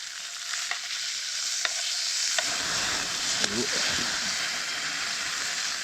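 Breaded grouse fingers frying in fat over an open campfire flame in the Canadian wilderness, a continuous close hissing sizzle with occasional pops and crackles, and someone speaking over it partway through.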